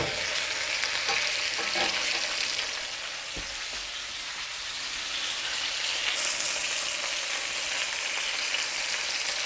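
A roast browns in a hot skillet with a loud, steady sizzle and crackle heard close, broken by a few faint clinks and shifts partway through.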